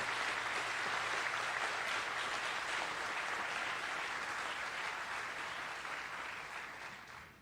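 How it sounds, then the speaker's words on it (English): Audience applause fills a hall at the NYMC School of Medicine Class of 2025 White Coat Ceremony, a dense, steady clapping from a large crowd that holds for several seconds and then starts to fade. "Let's really hear a round of applause for the folks who helped you get here."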